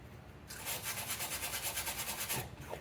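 A cut-off wheel grinds through a MIG weld on the rocker panel of a 1965 Ford Thunderbird convertible, giving a close, steady rasping whine with a quick pulsing rhythm for about two seconds before it stops.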